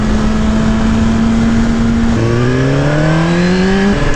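A 2018 Suzuki GSX-R1000 pulls hard on a highway, engine pitch climbing steadily, then a quick upshift drop and renewed rising drone, loud and close amid wind roar.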